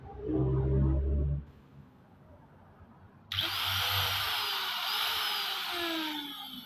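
An angle grinder with newly replaced power cord is switched on at about 3.3 s and runs loud and steady with a bright whine, following a low-pitched hum.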